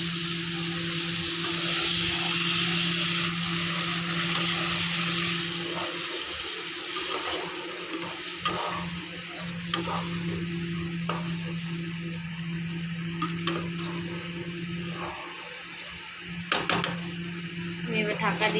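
Water poured into a pan of sizzling fried spice masala for a fish curry, a loud hissing rush at first that settles into a softer bubbling sizzle, with scattered clinks and a voice talking.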